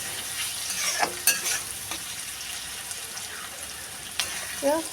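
Native chicken meat and onions frying in a pan, a steady close sizzle with occasional stirring scrapes and clinks, no voices over the cooking.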